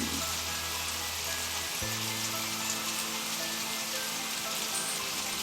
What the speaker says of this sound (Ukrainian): Великі краплини, барабанять, іде сильний дощ.